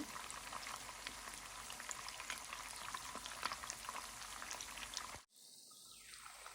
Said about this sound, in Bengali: চিকেনটা আমি চার মিনিট করে চার পাশ ফ্রাই করে নেব